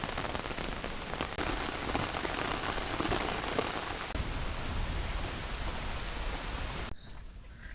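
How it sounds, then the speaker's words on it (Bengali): Steady rain pours in a rural village setting, a dense continuous hiss of drops on surfaces that stays loud and even with no voices, then drops away sharply near the end. "এই যে দেখেন বৃষ্টি পড়তে আছে"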